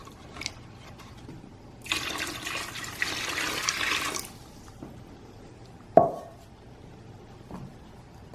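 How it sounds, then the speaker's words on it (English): Water pours in a steady stream for a couple of seconds, then stops; a sharp clink and a few small drips follow in a quiet room. "We'll add little more water."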